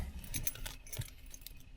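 Car keys for a 1974 Cadillac Deville jangle close by in a quiet space, a brief run of light metallic clinks and rattles.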